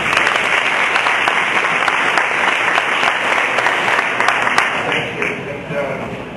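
An audience claps to welcome Dan Hartman at a talk on medical marijuana enforcement, steady dense applause from a room of people that gradually thins and fades toward the end.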